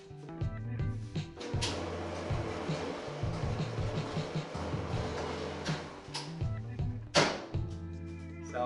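A repaired clothes dryer, just fixed for a squeal, runs steadily nearby with a continuous broad rumble and whir, punctuated by repeated dull thumps as the load tumbles inside the drum.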